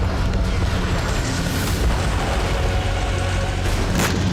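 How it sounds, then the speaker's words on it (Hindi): Continuous heavy rumbling blasts and booms from drone-dropped bombs, loud and dense throughout, like repeated explosions close by with no clear pauses. "ड्रोन से गिराए बमों से कई धमाके हुए"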